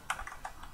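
Quick computer keyboard typing during a software search, several light key clicks in a short irregular burst, close and fairly quiet with no talking.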